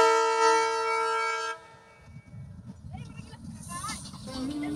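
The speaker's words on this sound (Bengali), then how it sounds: "ট্রেনটা কিন্তু বারবার হর্ন দিচ্ছিল" A train horn at Kanchan Junction gives one long, loud, steady blast, then cuts off, leaving a rumbling, clattering rush as the train passes close by.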